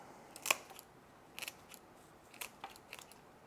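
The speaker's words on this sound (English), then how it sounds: "We're gonna cut all the roots." Scissors snip through the unhealthy roots of a houseplant being repotted, a few crisp, quiet cuts spaced out over a few seconds, close by and alone with no talking.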